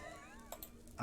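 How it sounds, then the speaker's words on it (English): A cat meows in Minecraft with the Pixelmon mod, a brief, fairly clear in-game meow, followed by a louder burst of other game or voice noise at the end. "did you get some cats living in?"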